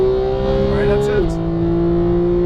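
A Porsche 911 GT3 engine holds a loud, steady high rev on a race track, then drops in pitch at an upshift and carries on, close to the cabin, with talk over it.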